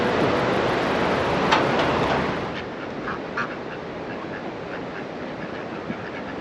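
Ducks quacking in a park in Corinna, Tasmania: repeated nasal quacks come in irregular bursts at moderate distance over a broad, steady outdoor wash of background noise that eases partway through.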